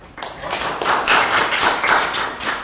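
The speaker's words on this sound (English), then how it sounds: "I so very rarely get applause" An audience at a college tech talk on virtual reality applauds to welcome the speaker, a continuous patter of many hands clapping at moderate loudness, swelling slightly then holding steady.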